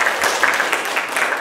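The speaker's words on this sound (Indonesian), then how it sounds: "Tepuk tangan buat Bu Indri." A short burst of applause for someone speaker at a school leadership training session, a room of people clapping together, loud and close.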